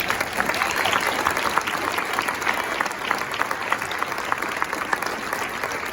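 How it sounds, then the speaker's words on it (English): An audience gives a sustained round of applause honoring a retiring coach's 40-some years of service, dense steady clapping throughout from a large crowd indoors, with no speech over it. "join me in a very large round of applause for 40-some years of service"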